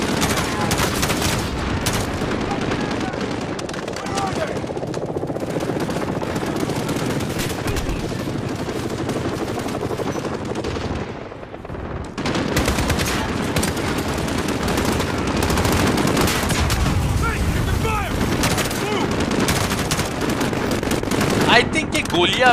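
Call of Duty: Modern Warfare gunfire rattles in rapid bursts and sustained automatic volleys, loud and close, with a short lull before the shooting resumes.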